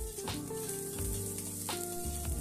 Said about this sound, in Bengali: তেল ছেড়ে দিয়ে আমরা এর মধ্যে দিয়ে দেবো আমাদের গুঁড়ো মশলাগুলো যেমন লঙ্কার গুঁড়ো লবণ আর হলুদ